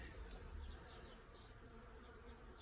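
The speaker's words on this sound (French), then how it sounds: "le bruit de fond que vous entendez, eh bien, il nous est fourni par la reine des animaux, qui est l'abeille" Honeybees buzz steadily around hives in a garden, a soft continuous hum with faint individual bees passing close, no voices.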